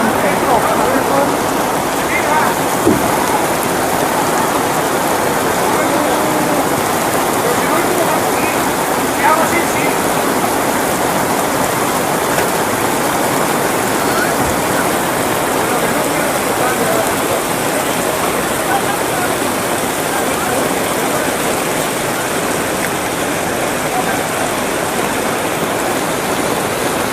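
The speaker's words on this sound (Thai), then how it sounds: "ตอนนี้ฝนตกมากเลยค่ะทุกคน" Heavy rain pours steadily over a town market, a dense, loud hiss that stays constant throughout with no break.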